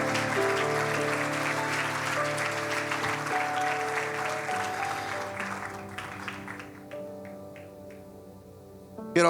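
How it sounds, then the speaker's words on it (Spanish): Congregation applause in a church, many hands clapping together over sustained organ or keyboard chords, the clapping thinning and fading toward the end while the held music tones carry on. "Démosle un aplauso al Señor."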